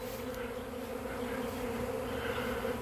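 A large honey bee swarm buzzes steadily and densely close by, a continuous droning hum of many wings with no voices.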